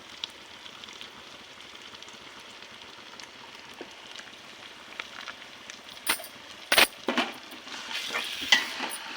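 Chicken leg pieces sizzle in a pan for a Sunday chicken curry, with a soft steady frying hiss. Louder clanks and scraping strokes come toward the end as yogurt is added and stirred in.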